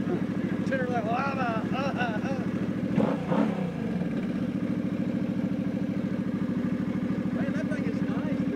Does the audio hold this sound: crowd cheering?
no